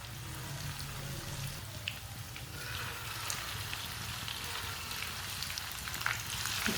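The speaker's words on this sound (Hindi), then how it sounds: "आप पकोड़े डालते जाएंगे।" Crispy aloo palak pakoras fry in hot oil, a continuous close crackling sizzle with scattered pops and spits throughout, steady and moderately loud with no talking.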